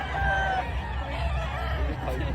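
Chickens at a livestock market in Padre Garcia, Batangas, with clucking and a brief crowing call over a steady low crowd murmur and babble.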